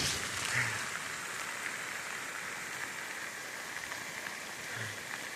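Heavy rain falls steadily in southern West Virginia, a dense, even hiss of downpour with a faint low rumble of swollen running water beneath, continuous and unbroken with no voices.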